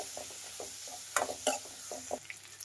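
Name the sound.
spices and fennel frying in a pan on medium flame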